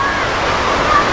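Amicalola Falls, Georgia's tallest waterfall, swollen after a night of pouring rain, roars loudly and continuously while a person talks over it.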